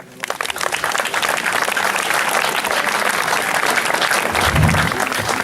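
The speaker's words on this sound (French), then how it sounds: "je pense que vous pouvez vous applaudir" An audience at a national FSGT sports event ceremony breaks into applause, a dense, loud wash of many clapping hands that swells quickly and holds steady, with a brief low murmur near the end.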